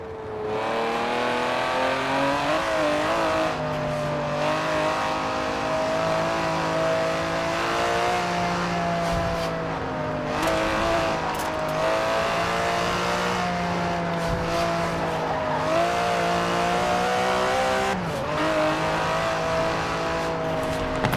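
In Forza Horizon 4, the 5.2-litre twin-turbo V12 of an Aston Martin DB11 drones loudly and continuously, its pitch rising and falling with repeated throttle changes and gear shifts, alone without talk.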